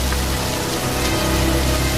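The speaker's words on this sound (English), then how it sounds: "Come on out of the rain now." Steady rain falls outdoors, a dense continuous hiss of drops on surfaces, loud and even throughout with no voices.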